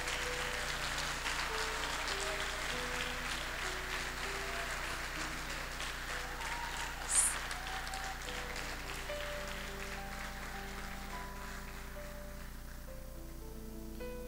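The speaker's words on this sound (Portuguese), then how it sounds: "eu quero que você dê um aplauso bem bonito para o Espírito do Senhor" Pentecostal church congregation applauding during a revival service, a steady wash of clapping that holds for the whole stretch, with faint organ or keyboard notes sustained underneath and no talking.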